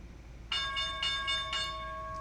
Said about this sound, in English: You got the bell.